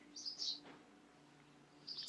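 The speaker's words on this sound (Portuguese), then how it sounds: "que passarinhos para cantar tão bonito" Small birds singing outdoors, two short bright chirping bursts at the start and end, faint and distant over quiet background.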